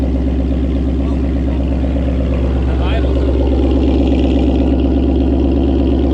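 A 2019 Ford Mustang GT V8 fitted with a Corsa Xtreme exhaust idles loudly and steadily nearby, its deep, even rumble holding throughout without a clear rev.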